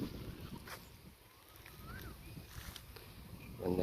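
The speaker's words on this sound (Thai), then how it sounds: "ลมแรงมาก" Strong wind blows outdoors beside a village fish pond, a continuous low roar and microphone buffeting that dips briefly and then swells again, with faint bird calls above it.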